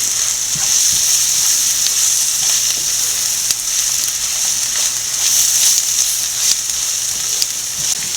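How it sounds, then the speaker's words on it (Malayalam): A constant, close hiss of food sautéing in hot oil with coriander powder, with faint occasional taps from stirring, while cooking Kuttanadan duck curry. "നല്ലപോലെ വഴറ്റുക"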